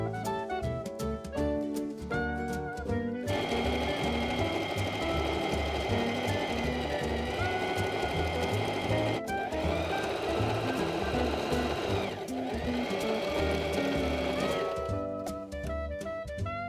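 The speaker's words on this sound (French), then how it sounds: "On va faire une surpiqûre tout le long pour former la coulisse." A sewing machine topstitches a drawstring casing along the folded edge of a summer dress, running in a loud steady whirring buzz with short pauses and changes in speed, close and alone.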